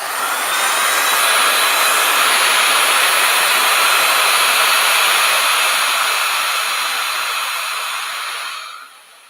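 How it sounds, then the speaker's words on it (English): A small heat gun blowing to dry paint on artwork, a loud, steady high-pitched whirring hiss held for about eight seconds before it winds down and cuts off. "I've got a little heat gun here."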